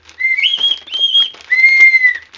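Clear, high whistled notes in three drawn-out phrases, close and fairly loud, like a bird's call or someone whistling to imitate one.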